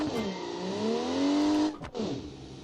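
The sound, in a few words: 1980s JDM convertible car engine in video game BeamNG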